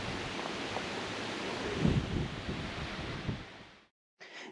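Steady rushing wind and waves washing ashore at Skilak Lake, Alaska fill the air, with rumbling gusts buffeting the microphone before a brief cutout.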